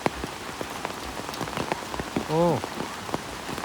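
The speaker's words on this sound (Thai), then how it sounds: "หนักเลยฝนแบบนี้" Heavy rain pours down beside the swollen Song River at Vang Vieng, a constant dense patter on surfaces, while a man gives one short exclamation partway through.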